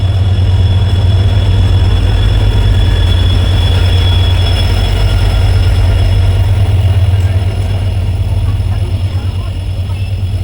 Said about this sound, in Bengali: এই যে ট্রেনটা আসছে সামনে।